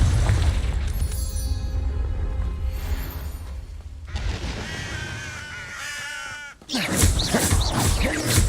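A Confringo fire spell blasts in Hogwarts Legacy, a loud booming explosion followed by crackling debris and rumbling, then a second burst of sharp, bright impact near the end.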